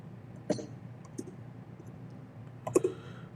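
Keys tapped on a computer keyboard while entering a short terminal command, a few sparse, faint clicks spread out, with a sharper cluster near the end and no talking.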